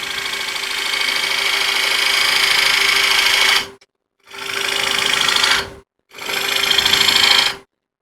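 A lathe gouge cuts the outside of a dry wooden bowl blank, giving a steady, bright, rasping whir in three bursts separated by short silences as the tool is lifted off and reapplied.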